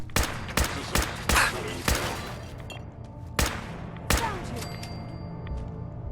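Gunfire from the Fallout 4 video game: a string of sharp, loud shots in uneven rhythm, about eight blasts over six seconds, each trailing a short echo.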